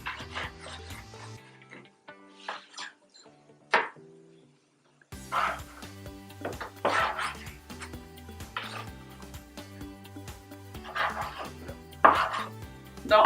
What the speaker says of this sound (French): je vais trancher le saumon